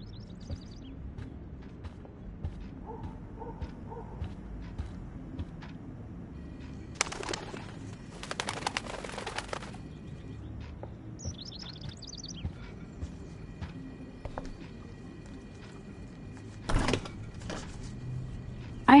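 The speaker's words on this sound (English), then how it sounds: "can you help me get this bird out of here?" A bird trapped indoors in the Life Is Strange video game coos faintly, then gives bursts of wing flapping and rustling at intervals over a quiet room tone.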